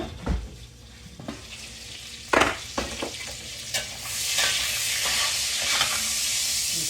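Bacon sizzles in a cast iron pot with a few clinks and scrapes from stirring. The frying hiss swells into a steady, loud crackle partway through, and no voices are heard.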